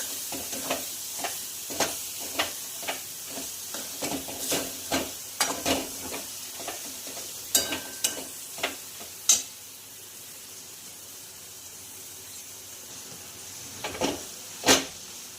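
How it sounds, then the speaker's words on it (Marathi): A spatula scrapes rhythmically through sizzling paneer bhurji in a pan over medium heat, regular stirring strokes over a steady frying hiss. "गॅस मिडियम करून याला असं मिक्स करून घ्यायचं आहे"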